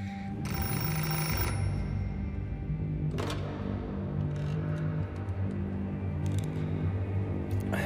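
A telephone bell rings in a tense true-crime thriller drama, its bright ringing bursts standing out clearly over a steady low rumble of background music.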